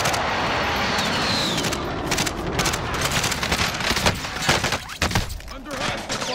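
Video game firefight with rapid bursts of gunfire crackling over a dense noisy background, sharp reports clustering toward the end.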